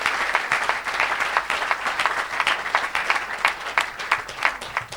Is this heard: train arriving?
no